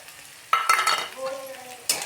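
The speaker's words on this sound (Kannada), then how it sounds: "ಸ್ವಲ್ಪ ಫ್ರೈ ಮಾಡಿ." Methi palya, a fenugreek-leaf stir-fry seasoned with chili and salt, stirred and frying in a pan: a quiet sizzle broken by two loud bursts of stirring, then a softer stretch of frying.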